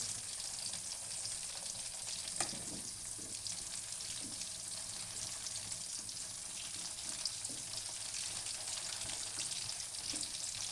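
Amla (Indian gooseberries) frying in hot oil make a steady, faint sizzle with small crackles and a few light knocks, heard alone.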